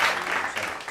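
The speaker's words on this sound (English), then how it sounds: "Let's give him a warm round of applause." A short, moderate burst of studio audience applause greets a talk show guest, steady clapping filling the whole moment.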